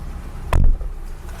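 A single solid thud of a 2016 Mini Cooper S Clubman (F54) door shutting, close and heavy, followed by quiet.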